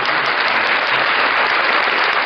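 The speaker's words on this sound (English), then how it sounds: "let's give them a round of applause for that" A dense burst of applause, loud and close, steady clapping throughout the short moment with no pauses.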